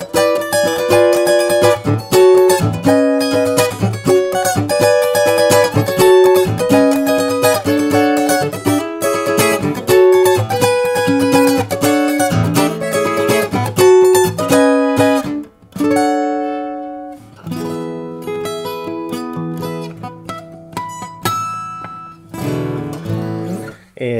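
A Martin OOOC-1 acoustic guitar plays a busy fingerpicked passage of ringing notes and chords, close and loud, with a brief pause midway and a sparser, slower phrase near the end; no voices.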